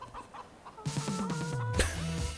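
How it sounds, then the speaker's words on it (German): Chickens on a farm in a tractor-driving video game cluck and squawk close by, starting softly, then a burst of overlapping clucks and a sharp squawk, fairly faint overall with no talk. "Gut, habe ich hier ein paar Hühner."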